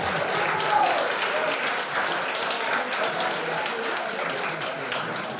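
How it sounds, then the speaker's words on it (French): Audience at a volunteering conference applauds a woman being honored, a steady round of clapping that eases slightly in level as it goes on. "qu'on vous applaudisse convenablement, et que les gens sachent que c'est vous"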